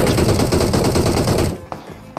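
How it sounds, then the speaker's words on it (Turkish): Rapid automatic gunfire rattles in dense, loud bursts as a video game player is shot. It cuts off after about a second and a half, then a couple of sharp isolated hits follow. "Ben de baydım, biri beni vuruyor."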